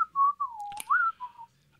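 A clear melodic whistle from a wrestler's entrance theme, sliding through a few sustained notes over about a second and a half with a brief click midway, no talk.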